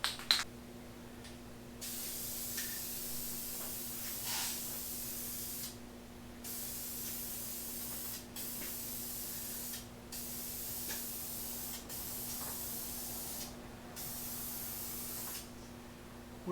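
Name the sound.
spray can of primer spraying an oil pan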